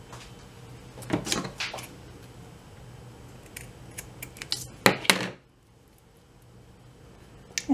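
Scissors cut paper and trim for a handmade junk journal: a few close, crisp snips around the first and fifth seconds over a quiet room, with soft handling noises between them.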